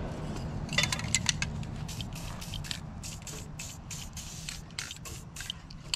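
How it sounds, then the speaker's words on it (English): Repeated short hissing bursts of lubricant spray from an aerosol can on an old tractor disc, close by, with faint clinks and scraping between them. "A little gap, spray some more"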